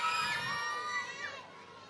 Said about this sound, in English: Oh, keep cheering. You can cheer louder than that.